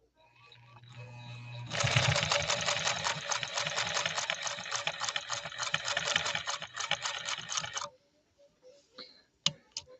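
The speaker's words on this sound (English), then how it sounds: "That needle hit that 8 layers of heavy grade denim." A 1950s Pfaff 130-6 sewing machine stitches through eight layers of heavy denim in a loud, close, steady mechanical chatter for about six seconds, then stops, and a few sharp knocks follow.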